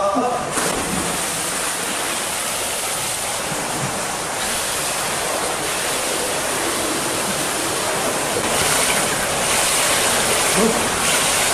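Water in a four-lane indoor swimming pool at Tallinn English College: a constant broad splashing wash echoing through the hall, loud and unbroken for the whole stretch.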